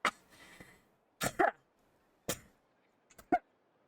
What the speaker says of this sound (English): I was supposed to be clearing my throat for a bit, but it actually made things worse.